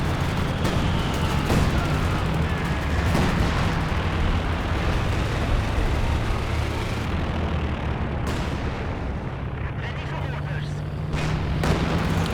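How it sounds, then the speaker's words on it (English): A Pathfinder artillery barrage pounds away in Company of Heroes 2, a continuous dense roar of explosions and blasts under steady battle noise, with distinct booming impacts standing out and a voice talking over it. "Some Pathfinder artillery that got dropped there."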